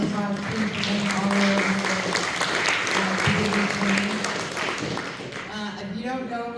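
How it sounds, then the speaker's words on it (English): Audience applauding Jay at an in-person Sunshine Law training session in Edina, Missouri; steady hand clapping fills the room at moderate level, with voices and a low hum running underneath throughout. "Can you guys give him a round of applause, please"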